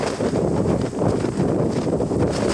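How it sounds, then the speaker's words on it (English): Strong gusting wind buffets the microphone in a continuous loud roar on open hills in rain, with no voices. "Still very windy and raining."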